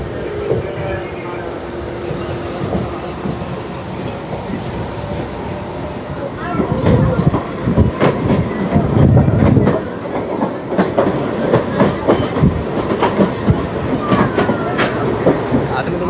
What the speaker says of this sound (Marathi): खारबाव रेल्वे स्टेशनला मेमू ट्रेनचा अरायवल होतं आहे.